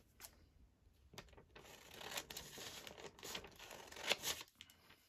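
Scissors snip through a printed quote on thin tracing paper, a run of close, crisp cuts and papery rustles that come in short bursts, with no talking over them.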